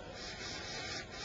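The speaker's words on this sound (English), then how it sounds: "we'll just spray around those like so." A soft, steady hiss of an airbrush spraying preshading paint on a scale model, continuous and close, with no other sounds.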